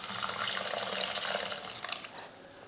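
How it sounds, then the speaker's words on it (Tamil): Water is poured into a pot of South Indian tamarind kuzhambu curry, making a steady, close splashing and rushing stream that tapers off near the end. "இப்போ குழம்புக்கு தேவையான தண்ணி சேர்த்துருவோம்."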